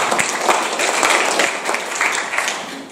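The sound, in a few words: congregation applauding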